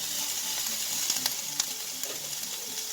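Onions brown in olive oil in a pan for a white-wine mussel dish, giving a steady close-up sizzle with occasional sharp clicks and scrapes as a utensil stirs them.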